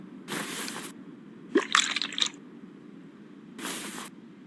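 Coolant draining from a car in Car Mechanic Simulator 2021: three short separate liquid bursts, the middle one a spattery gurgle with drips, the outer two soft hissing pours, fairly quiet with silence between.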